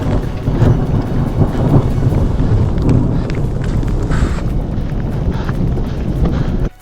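Deep, heavy thunder rumbles continuously and loudly on a mountain trail in the Italian Dolomites, mixed with gusty wind buffeting the microphone, with no pauses throughout.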